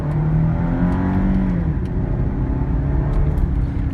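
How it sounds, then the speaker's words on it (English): A Cadillac CTS with a manual gearbox drives and accelerates, its engine note rising in a loud, steady drone with road roar close up and no voices. "I'm driving the Cadillac. It's fairly easy to drive."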